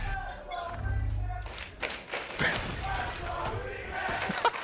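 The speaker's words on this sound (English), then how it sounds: "Crowd currently chanting, "Let's go, Wingman."" An esports arena crowd at a Valorant match chants rhythmically, a roaring mass of voices with thumps and claps, while commentators talk over it.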